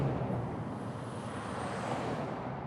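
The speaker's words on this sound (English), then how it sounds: "You can hear the cars whizzing by him" Steady roar of road traffic with cars whizzing past close by, a continuous broadband rush that swells and fades slightly with no pauses between vehicles.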